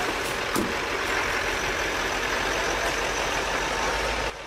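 A logging truck is winched out of a subsidence hole and towed toward the main road, giving a loud, steady engine and machinery roar that runs unbroken and then cuts off sharply near the end.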